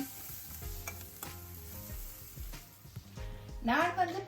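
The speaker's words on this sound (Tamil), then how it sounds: "அதுக்கு வெங்காயமும் போட்டு உப்பும் போட்டு வதக்கி எடுக்கிறேன்" Onion with salt frying in a pan, a soft sizzle broken by stirring and scraping strokes, with a brief voice near the end.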